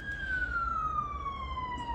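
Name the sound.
police sirens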